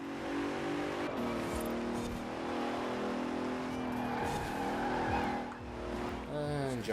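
A Range Rover Evoque engine drones while driving in Forza Horizon 4, a steady revving hum with shifting pitch and occasional tire squeal, sitting under intermittent talk.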